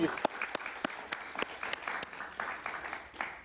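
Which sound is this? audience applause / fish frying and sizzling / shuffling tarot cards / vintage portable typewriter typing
audience applause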